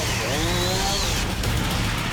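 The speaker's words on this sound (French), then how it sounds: "La tronçonneuse de Jamie était extrêmement efficace." Chainsaw running loud and continuous while slicing fruit thrown through the air, a steady buzzing roar with a rising and falling whine as it cuts.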